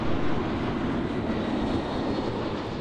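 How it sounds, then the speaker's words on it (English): Martinair Cargo Boeing 747-400 freighter at Amsterdam Airport, a steady broadband jet roar holding at moderate loudness throughout, with no voices. "what a beautiful Martin Air Cargo 747-400 freighter"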